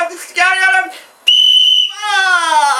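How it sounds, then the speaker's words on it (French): A small whistle blown in the mouth sounds in three loud, close tooting blasts, each a wavering pitched tone with a short gap between, the middle one higher and steadier. "Il siffle encore!"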